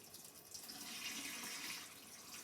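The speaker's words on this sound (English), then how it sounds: "Rinse my spatula off here." Water pours from a kitchen tap to rinse off a cooking spatula, a steady close rushing splash that continues throughout with no voices.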